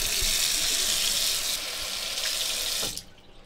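Water gushing steadily from a tap into a sink, a close, even splashing hiss that stops abruptly near the end when the faucet is shut off.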